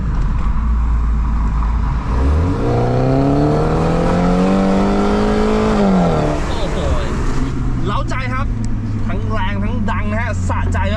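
A tuned BMW F30 330e with an aftermarket sports exhaust revs up with a rising, throaty exhaust note during acceleration, then settles; a voice talks over the later part.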